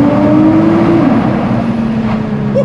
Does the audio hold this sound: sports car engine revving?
yes